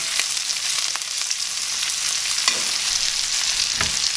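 A New York strip steak basted with melted butter, thyme and herbs in a hot cast iron pan: steady bright sizzling and spattering, close and continuous, with a few soft spoon scrapes and no talk.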